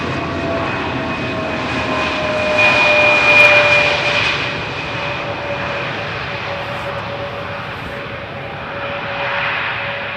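An airliner lands on runway 18R at Amsterdam Schiphol Airport with a long, loud, steady jet roar. The sound swells briefly as the aircraft passes, then holds as a broad wash of noise, and no one speaks.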